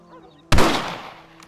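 A single sharp rifle shot in Red Dead Redemption cracks out loud and close after a quiet moment, then decays into a long echoing tail.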